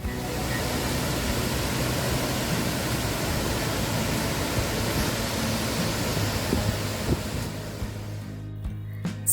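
Mae Ya waterfall at Doi Inthanon in Thailand gives a steady, close, full-bodied roar of falling water that fills the whole clip with no voices and cuts off abruptly near the end.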